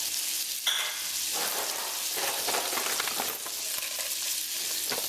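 Sliced almonds fry in a pan of oil and butter, giving a dense, crackling sizzle with stirring scrapes. The sound is close and continuous throughout, with no voices.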